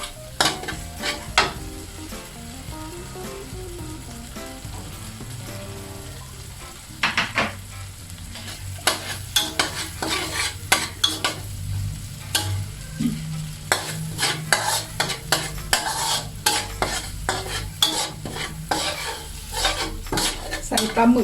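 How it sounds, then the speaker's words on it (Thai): Squid being stir-fried with salted egg yolk over high heat in a pan, a steady sizzle punctuated by rapid, repeated scraping and clanking of a utensil against metal, growing busier toward the end. "ใส่ปลาหมึกลงไปผัดเลยค่ะ"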